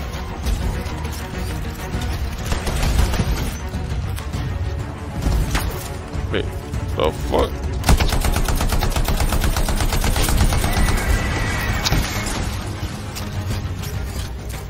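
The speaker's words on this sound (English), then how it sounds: "What's shooting at me?" Automatic weapons fire in the Anthem sci-fi shooter game comes in rapid, dense bursts, with mechanical clicks and clatter between them. The gunfire stays loud and continuous through the whole stretch, with no talk.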